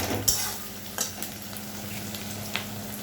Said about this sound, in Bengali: পেঁয়াজটা একটু ভাজা ভাজা হোক। পেঁয়াজটা ভাজা হয়ে গেছে, এবার দেব